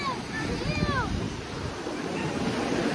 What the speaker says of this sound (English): Jada, big waves.